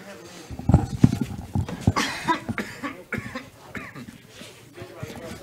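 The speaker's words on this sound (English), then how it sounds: "Didn't want you to hear all that coughing." Someone coughs during a Final Fantasy TCG constructed game night, a handful of harsh, close coughs and throat sounds mixed in with people talking.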